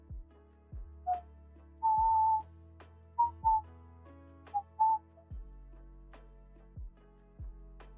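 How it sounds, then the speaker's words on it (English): A whistled melody from the Outer Wilds soundtrack plays as short, clear notes over gently plucked low strings in an unhurried, repeating rhythm, with no voices. "In the original soundtrack, it has whistling."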